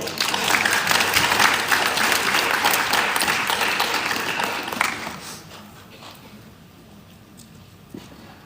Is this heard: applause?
yes